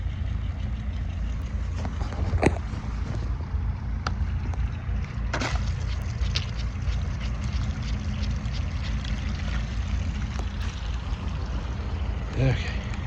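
A ventilation fan runs steadily in a turkey barn being readied for a new flock, a constant low whirring drone with faint clatters throughout.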